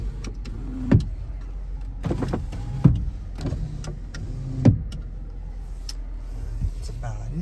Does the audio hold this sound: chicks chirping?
no